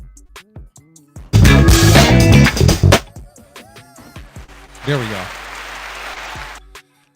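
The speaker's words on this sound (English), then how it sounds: "where my hand clap at?" A radio host on Pontiac station WYAC plays a hand clap sound effect, a loud burst of clapping lasting under two seconds between stretches of close talk, followed by a softer noisy swell.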